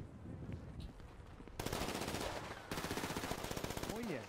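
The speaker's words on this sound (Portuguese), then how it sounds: "Tem gente sua metendo bala em mim aí." Gunfire rattles in a video game as the player comes under fire, rapid machine-gun bursts in close repeated volleys that stay loud throughout, with a brief voice sound near the end.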